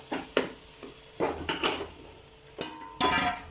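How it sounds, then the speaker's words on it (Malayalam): Chicken pieces tipped into a pan of cooked curry masala, with a series of close metallic clatters and scrapes as the spoon and pan are handled, followed by a brief soft sizzle; no one speaks. "നമുക്കതിലേക്ക് ചിക്കൻ ചേർത്ത് കൊടുക്കാം."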